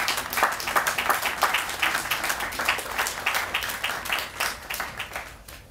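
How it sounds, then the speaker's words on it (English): An audience of citizens and commissioners claps at the grand opening ceremony for the Boundary Waters building, a lively crowd applause with distinct individual claps, steady and fairly close, fading slightly near the end. "and the citizens, yourselves, a big applause"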